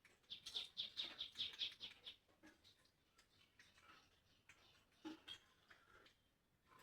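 Weaver birds around their nests on a house roof give a quick burst of faint, rapid chirps, then sparse scattered calls in a quiet outdoor setting.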